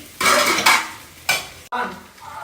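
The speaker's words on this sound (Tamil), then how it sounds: "இப்போ வந்து முட்டையை போட்டலாம். முட்டையை நல்லா வதக்கிட்டு" Egg stir-fried in a pan with cabbage for chicken fried rice, loud close bursts of sizzling as a spatula scrapes and tosses it in quick strokes, with a metal clink between strokes.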